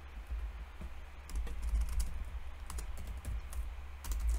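Quiet clicking of typing on a computer keyboard, soft irregular keystrokes in short bursts over a low background hum.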